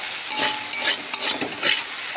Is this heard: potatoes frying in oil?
yes